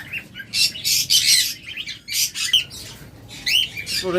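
Pet parrots and other cage birds at a bird sale squawk and chirp in loud, repeated bursts close by, several calls overlapping with short gaps between them.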